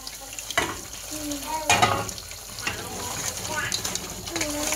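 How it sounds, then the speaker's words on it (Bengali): Onions hiss and sizzle in hot oil in a pan as a baghar tempering for cooked meat, loud and close with bursts of crackle and stirring, faint talk in the background. "এখন আমি এখানে বাগার দিব পেঁয়াজের"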